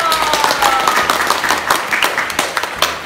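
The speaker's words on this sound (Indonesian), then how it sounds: "tepuk tangan lagi dong" Children at an online Sunday kids' church service clap their hands together in a steady, fairly loud burst of applause, with a faint tonal sound running underneath.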